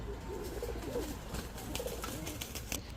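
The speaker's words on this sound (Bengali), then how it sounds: "এক জোড়া সবজি রেসার কবুতর" Racer pigeons cooing softly, a few low rolling coos with faint background clatter and a distant airy hum, fairly quiet and without speech.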